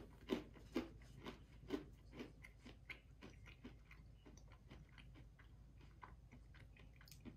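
Crunchy chewing of granola close up, a few loud crisp bites at first, then steady softer munching continuing without any talking.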